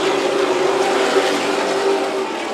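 Pro Late Model race cars roar around Stockton 99 Speedway in a loud, continuous engine drone, the pack sustained and close with a steady tonal whine running through it.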